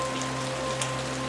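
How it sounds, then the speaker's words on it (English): Steady rain falls outdoors in the Barkerville town site in British Columbia, a constant dense patter with no voices. "Actually, it's really raining"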